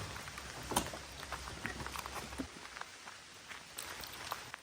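Rain comes down outside a small camper trailer at a campground, a low steady patter with scattered louder drips and taps throughout.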